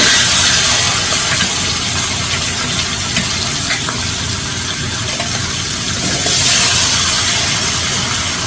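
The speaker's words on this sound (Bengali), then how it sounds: "গ্যাসের ফ্লেমটা বাড়িয়ে দিয়ে আবারও মাছের মাথাগুলো ভেজে নিতে হবে।" Katla fish heads frying in hot oil in a pan over a turned-up gas flame, a loud, continuous close sizzle and hiss with a brief surge near the end.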